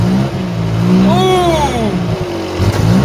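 A Ford Cortina Mk3 engine revs up and falls back, loud and close, with a rising and falling drone and some rough background clatter.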